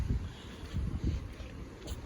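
Strong wind gusts of around 45 mph buffet the microphone in rough, low rumbling bursts that rise and fall over a couple of seconds, with no talk.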